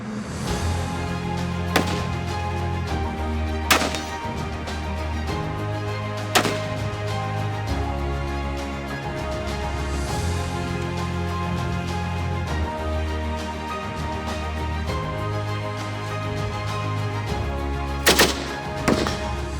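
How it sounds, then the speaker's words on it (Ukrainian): Sharp gunshots from a pistol, carbine and Kalashnikov machine gun crack out one at a time at irregular intervals over a steady low rumble at a shooting training session, with a quick double shot near the end. "Сьогодні я стріляла з пістолету, з карабіну та з ККМ."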